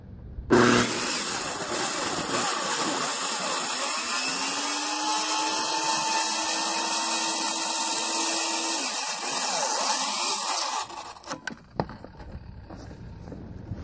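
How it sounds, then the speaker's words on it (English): A power saw screams at high revs while cutting wall sheeting for an 8x12x8 A-frame shed, running loud and continuous for about ten seconds before spinning down, followed by brief clatter. "And yes, I rev my saw up a lot. It gives me better cutting power."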